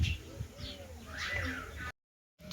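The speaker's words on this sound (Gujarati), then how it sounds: "ચકલી આવી ખાવા" Sparrows chirp and twitter near a rural farmyard where rice has been scattered for them, with soft cooing and birdsong mixed in for a couple of seconds before a short silence.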